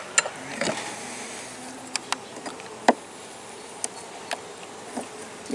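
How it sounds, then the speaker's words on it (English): Honey bees on the frames of a small hive, a soft, faint buzz with a few brief louder passes of bees flying close. "Okay, decent number of bees."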